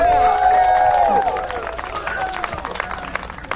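A crowd applauds and cheers loudly for the steel drum band, with bright shouted voices rising over dense clapping that starts strong and thins out over a few seconds.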